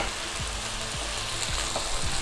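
Marinated, salted crabs tipped into a pan of light-browned onions for a Goan crab xeq xeq, a steady loud sizzle of frying with a few soft stirring scrapes and no talk.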